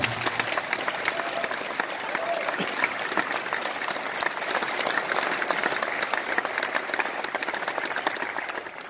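Audience at a West Point 2019 senior branch assignment ceremony applauding visiting members, a dense, steady roar of many hands clapping throughout, close and sustained, with no speech over it.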